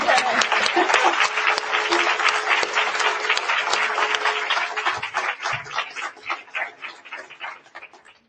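A conference audience at the LSA 2019 Annual Meeting applauds former LSA presidents with loud, dense clapping that holds steady, then thins and fades over the final seconds.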